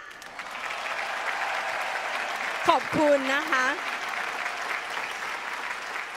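Steady applause from an audience for a family at an Amway double diamond award ceremony, continuous clapping throughout while someone briefly speaks over it near the middle.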